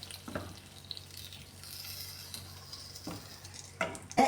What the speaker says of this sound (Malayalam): കടുക് പൊട്ടിച്ച് ഞാൻ ഇതിലേക്ക് ചേർത്ത് കൊടുക്കുകയാണ്.